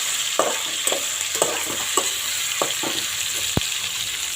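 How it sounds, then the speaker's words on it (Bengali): Potatoes and tomatoes fry in a thin wok with a constant low sizzle, punctuated by irregular clinks and scrapes of stirring and one sharp metallic knock near the end. "আর এদিকে আলু আর টমেটোটা মোটামুটি ভাজা ভাজা হয়ে এসেছে।"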